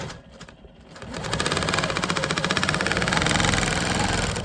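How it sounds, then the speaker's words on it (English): A QMP 20 quilting machine quilts a custom bag panel, starting quietly then settling into a loud, close, fast rhythmic stitching hum that continues steadily. "I'm just gonna keep quilting until I fill this panel up"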